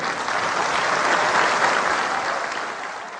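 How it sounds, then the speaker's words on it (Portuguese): Sustained standing ovation from an audience at a Brazilian ceremony, a dense wash of many hands clapping at steady loudness that eases slightly toward the end. "Muitos aplaudiram de pé esse momento que você acaba de ouvir."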